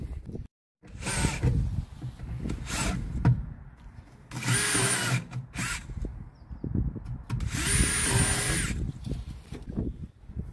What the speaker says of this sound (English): We're going to drill some little holes underneath.